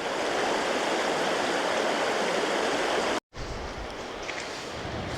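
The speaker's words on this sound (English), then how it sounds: "So I'll give you another look at the waterfall." A loud, steady roar of rushing water from a waterfall in Glen Nevis, Scotland, pours continuously, briefly cutting out before the rushing resumes slightly softer.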